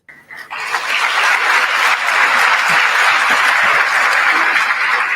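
Applause from an auditorium audience for a speaker at an institutional lecture, a dense, steady wash of many hands clapping that swells in after a brief start and holds loud and even throughout.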